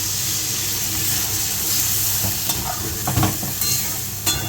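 Hot water poured into a cooking pan of frying food, giving a loud continuous hiss and sizzle with bursts of steam and a few scraping clatters toward the end, no voices.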